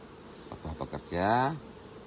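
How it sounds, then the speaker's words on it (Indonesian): Worker honeybees at a bee farm give a close, rising buzz that swells and fades after a few short clicks and knocks. "Nah, ini semua lebah pekerja."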